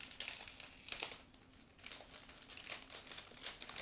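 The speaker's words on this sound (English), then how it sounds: "Next we have separate plastic bag with transparent parts. So let's open it." Plastic bag holding clear transparent parts from an ICM 1/35 scale truck model kit being opened, a run of close, quiet crinkling and rustling bursts in an otherwise silent room.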